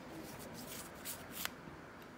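Playing cards handled and drawn from a deck, soft close papery rustles and slides with a sharp flick near the middle, quiet and brief with no voices.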